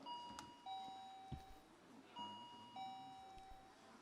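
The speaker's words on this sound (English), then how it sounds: "Let us hear the bell from the University of Education Winneba." At a university quiz competition, a contestant's bell rings twice, each ring a clear electronic ding-dong chime followed by a sustained tone, fairly quiet in a hall with no talk over it.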